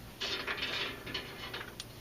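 Ratchet wrench loosening a skid plate bolt on a Jeep Cherokee XJ, a quick run of fine clicking close by and faint, with no talking.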